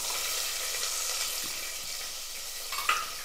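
Chopped small shallots with curry leaves sautéing in hot oil, a steady close sizzle with a few scraping stirs and a sharper clink near the end.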